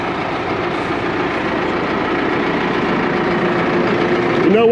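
A farm tractor engine runs steadily nearby at a field where drainage tile is being laid, a constant mid-pitched drone that swells slightly near the end, with some voices under it.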